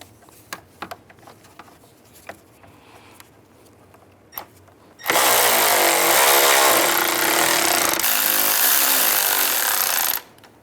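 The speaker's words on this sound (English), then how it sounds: "before you tighten those lower bolts, get the bolts in up top as well. Once those are in, then you can start tightening them." A power tool, likely an impact wrench, runs loud and steady for about five seconds, tightening bolts on the radiator fan of a 2005–2010 Volkswagen Jetta, after some quiet clicks and handling noises.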